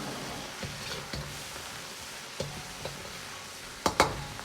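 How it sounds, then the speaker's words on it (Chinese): Pixian chili bean paste is stir-fried with ginger and scallion in a hot pan, giving a soft steady sizzle broken by scattered spatula scrapes and two louder clacks near the end. "再放入10克的郫县豆瓣酱，炒出颜色，炒出香味"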